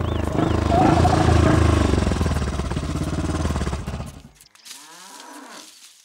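A cow lets out a long, loud, nearby moo that fades after about four seconds, followed by a faint rustle.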